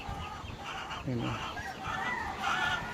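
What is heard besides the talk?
shamo gamefowl chickens clucking and crowing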